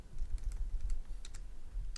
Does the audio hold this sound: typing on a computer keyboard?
yes